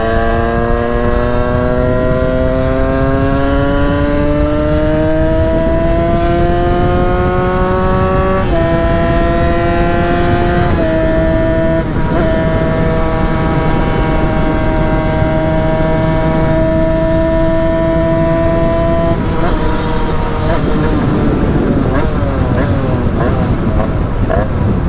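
Derbi moped engine revving hard through long gears on a road ride, a loud buzzing drone rising in pitch through each gear with brief drops at the shifts, continuous and close.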